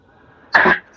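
One short, sharp sneeze bursts out close and loud against a quiet background, lasting about a quarter second.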